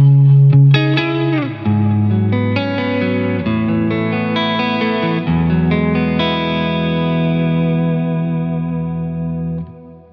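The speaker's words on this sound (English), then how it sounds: "And last, the Big Sky Reverb." Electric guitar running through a compressor, an Eventide TimeFactor delay and a Strymon Big Sky reverb, a loud sustained phrase of notes and chords that ends in a long, washy decaying tail.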